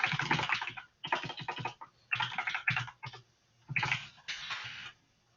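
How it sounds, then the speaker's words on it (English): Quick bursts of close, dense key tapping on a computer keyboard, coming in several short runs with brief pauses between them, soft and alone in a quiet room. "I'm just typing in my poll."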